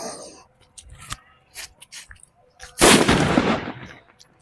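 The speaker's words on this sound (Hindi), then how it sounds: "और भाई ये हाइड्रोजन ग्रीन बम है" A hydrogen green bomb firecracker, a Diwali cracker, gives scattered sharp crackles and pops, then one loud, close blast that rolls on briefly before fading.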